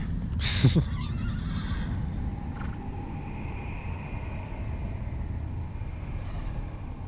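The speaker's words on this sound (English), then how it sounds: "maybe Aggro is Mono's horse" A horse whinnies briefly near the start in Shadow of the Colossus, over a constant low rumbling background, with a few faint clops and thin high tones later.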